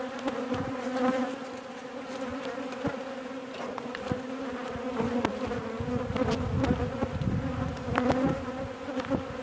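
Agitated honeybees at an open hive make a dense, continuous, loud buzz close by, with individual bees droning past throughout.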